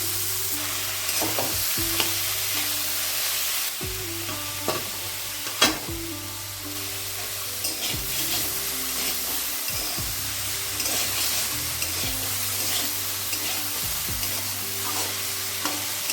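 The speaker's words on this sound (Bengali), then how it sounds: "মোচাটা আমি দু মিনিট মতো ভেজে নিয়েছি" Boiled banana flower frying in hot oil in a pan, a continuous close sizzle broken by repeated scraping stirs at fairly regular intervals, with a faint tonal hum beneath and no speech.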